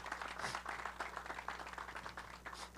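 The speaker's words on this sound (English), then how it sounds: "Let's give her a round of applause." Quiet applause from an audience at a university ribbon-cutting ceremony, a soft patter of claps over a low steady hum, faint and somewhat distant.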